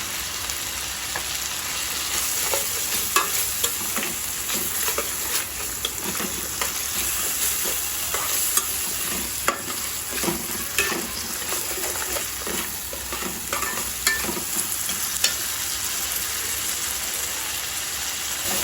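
A spice paste with onion fries steadily in a pan, a constant loud sizzle with scattered pops and crackles, close by, no voices.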